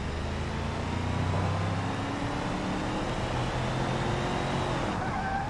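Steady engine drone and road rush from spawned traffic cars in BeamNG.drive, a continuous moderate hum with faint tonal whines shifting through it.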